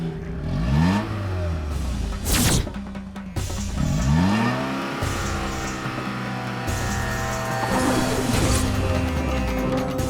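A vehicle engine revs loudly as the accelerator is pressed, rising in pitch in repeated surges with a sharp burst between them. It then settles into a sustained high, straining drone.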